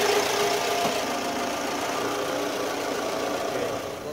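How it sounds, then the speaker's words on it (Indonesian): A Toyota Alphard with a CVT, in used condition, idling steadily: an even, continuous engine hum with broadband noise, close by and unchanging for the whole stretch, no voices. "Ini suaranya mesin halus. Bener loh halus ini."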